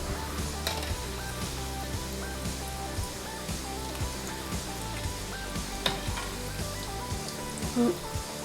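Potato pieces frying in oil over a low flame for Kashmiri dum aloo, giving a steady, close sizzle with occasional light pops and faint utensil clinks.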